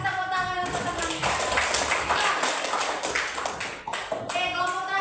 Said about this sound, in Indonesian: kasih tepuk tangan untuk teman-teman